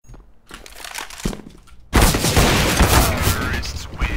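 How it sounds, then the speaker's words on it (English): A flashbang grenade goes off in a fast-paced online shooter, a loud sudden burst that cuts in partway through and leaves a long, harsh ringing wash over faint game noise and shouting players. "Throw in the flashbang!"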